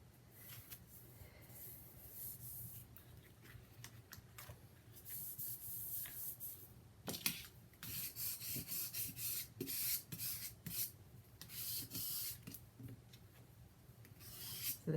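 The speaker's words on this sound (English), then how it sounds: "I see a little bit of tape there that might have to be erased" An eraser rubbing tape residue off an album page, heard as faint, close, irregular scrubbing strokes that grow busier and more rhythmic toward the end, with no talking.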